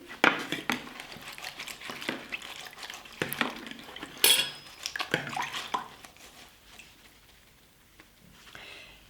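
A fork scoured with homemade wood-ash cleaning cream being rinsed in a sink: clinking metal against dish, sloshing and dripping water in irregular bursts, close up, fading to quiet near the end, with no speech.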